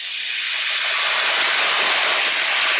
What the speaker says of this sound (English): I'm going to deglaze the pan with a little wine